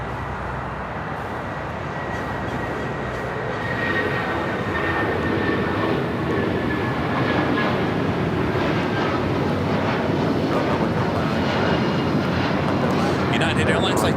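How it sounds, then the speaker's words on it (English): United Airlines Boeing 757-200 jet bound for Newark at Los Angeles LAX, a broad steady engine roar that swells slightly and holds loud throughout, with a voice talking over it at times. "United Airlines flight 1331 heading to Newark, a 757-200."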